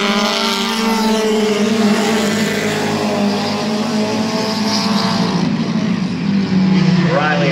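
Compact race cars roar around the Midvale Speedway oval in a continuous, loud engine drone that rises and falls as the pack passes, with a commentator's voice running over the noise.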